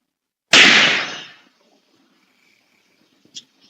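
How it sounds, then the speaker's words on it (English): A single sharp gunshot cracks nearby and rings out into a decaying tail, followed by near silence with a faint distant call. "A shot can be heard"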